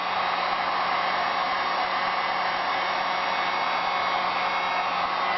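A heat tool blows steadily for the whole stretch, melting embossing powder on a winter-themed paper craft project, a loud continuous hot-air whoosh close by with no talking.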